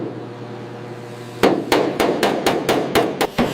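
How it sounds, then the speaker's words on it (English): Hammer blows on bare steel body panels of a Dodge car under restoration, eight or so sharp metallic strikes in an uneven rhythm after a quiet opening, close and loud with no talk. "Listen to the rhythm of the hammer."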